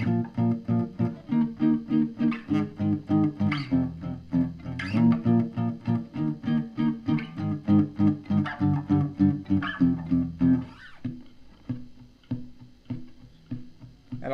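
Guitar chugs through the bridge of a song with steady, rhythmic muted power-chord strums, loud and close, then slows into a few looser strokes near the end, with no voices.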